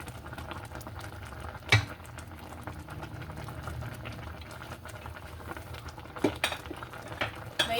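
Paksiw na talakitok simmering in a pot, a steady low bubbling boil with a few sharp clinks of a utensil against the pot, no talking.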